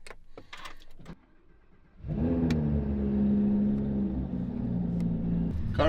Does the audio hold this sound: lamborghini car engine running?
yes